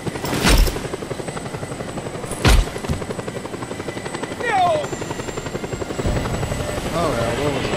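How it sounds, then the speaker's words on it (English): Helicopter in the video game Just Cause 2, a steady rotor drone and whine running throughout, with a few sharp bursts of gunfire or impacts and brief game voices over it. "helicopter will tear us to pieces"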